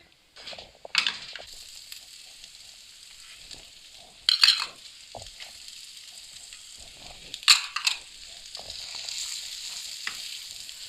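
Chopped onion and carrot sauté in a pan for white sauce pasta, giving a steady sizzle and crackle. Louder bursts of stirring and scraping cut in at a few points, and no one speaks.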